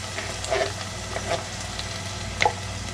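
Canned black-eyed peas sizzle softly in a frying pan while a utensil scrapes and stirs them, a low steady fry under a few brief scraping strokes, close and quiet.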